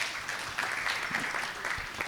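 Audience applause at an occupational health and safety conference, a steady wash of clapping from many hands filling the short stretch without pause.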